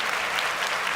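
Steady audience applause from a live show crowd, dense and continuous clapping throughout at moderate loudness with no voices standing out.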